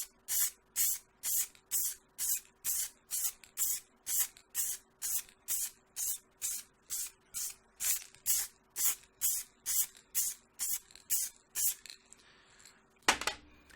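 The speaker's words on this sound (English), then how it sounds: "I've started off the page, off the model, sprayed across and then stopped and done the reverse" A can of quick-dry multi-purpose enamel sprays onto a 3D-printed Majora's Mask in a rapid, even series of about two dozen short, close hissing bursts, ending with a final sharper puff.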